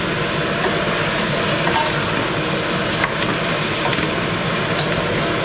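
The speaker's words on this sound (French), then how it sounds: "Et je remélange pour que tout soit bien entouré de farine." Beef pieces being stirred with flour in a cooking pot, a steady dense scraping and sizzling texture that runs continuously at close range with no talking.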